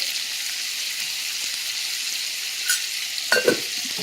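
Breaded hamburger steak fries in a skillet with a steady, bright sizzle, broken near the end by a few brief clinks and scrapes of utensils against the pan.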